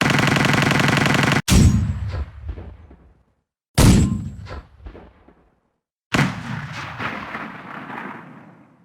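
Three loud, separate cannon shots from a 20mm TNSH tank cannon, a Soviet gun used on T-38 and T-60 light tanks, in War Thunder. Each sharp blast fades into a decaying rumble, and no one speaks.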